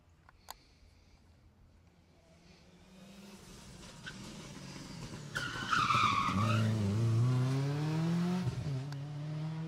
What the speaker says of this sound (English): Bit of sliding around the corner there.